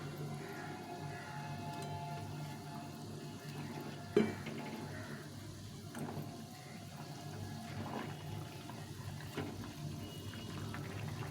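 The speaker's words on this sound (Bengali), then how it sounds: "ঝোলটা ফুটে গেছে।" Tilapia fish curry gravy boils in a pan, a soft steady bubbling and simmering wash with one faint clink partway through, low and continuous throughout.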